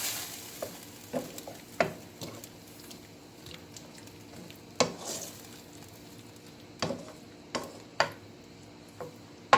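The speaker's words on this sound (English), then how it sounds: "We'll let that tomato sauce cook for a little bit" Tomato sauce from an 8-ounce can cooks with stewed chicken in a pan, giving a low steady sizzle broken by scattered sharp scrapes and knocks of a spoon stirring against the pan.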